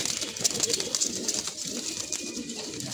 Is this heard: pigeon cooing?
yes